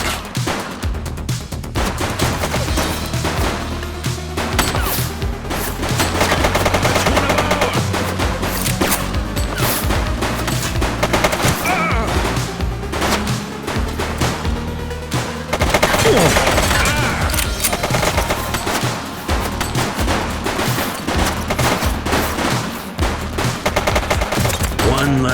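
Gunfire in The Precinct, a police video game: dense bursts of rapid shots and fusillades crack repeatedly throughout, with short shouted voices in between.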